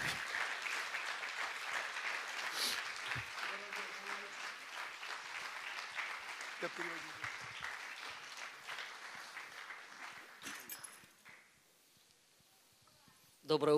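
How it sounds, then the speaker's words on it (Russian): Church audience applause welcoming a speaker to the stage, a dense sustained clapping that stays loud for about ten seconds and then fades out before a voice starts. "Давайте аплодисментами поприветствуем."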